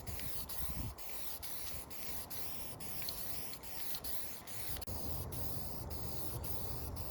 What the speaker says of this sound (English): We're gonna put light coats of lacquer black on it